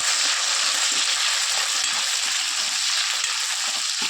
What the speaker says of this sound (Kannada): ಮೆಣಸಿನ್ಕಾಯಿ ಮಾತ್ರ ಎಣ್ಣೆಲಿ ಡೀಪ್ ಫ್ರೈ ಆಗಬೇಕು